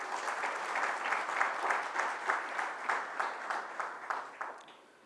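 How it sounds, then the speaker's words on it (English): Conference audience applauding as speakers are welcomed, a dense, sustained burst of many hands clapping at an even level before tapering off near the end. "I will request you to welcome them with a big applause."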